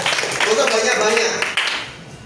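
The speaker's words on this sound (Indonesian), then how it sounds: "Tepuk tangan dong." An audience of high school students applauds at a Maulid Nabi commemoration in Yogyakarta, a steady wash of clapping lasting a couple of seconds with a brief dip partway through.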